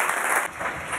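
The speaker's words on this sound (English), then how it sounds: "you can give them a good round of applause" Brief applause from an audience at an annual public meeting, a dense steady patter of clapping heard for about a second.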